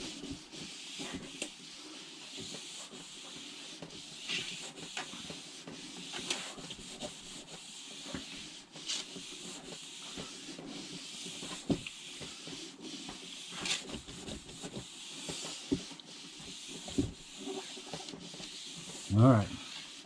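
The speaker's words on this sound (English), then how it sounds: "Then I get out my buffing pad, and I just buff it." A waxed board is buffed with a buffing pad in steady back-and-forth rubbing strokes, a soft close swishing texture with quiet movement bumps and a louder knock near the end.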